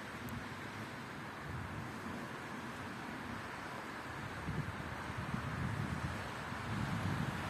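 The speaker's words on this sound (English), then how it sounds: "The wind blow from north." North wind gusts across an open field at a glider launch site, a steady rushing roar against the microphone that swells slightly louder toward the end, with no talking.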